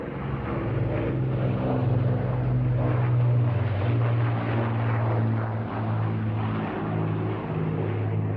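Four-engined Avro Lancaster bomber droning steadily at an air show, its propeller engines producing a loud, continuous rumble with layered harmonic tones that swell slightly and hold throughout, with no talk.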